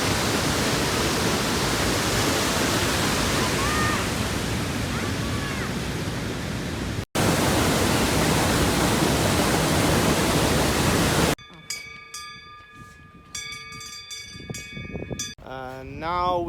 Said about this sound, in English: So we reached the waterfall.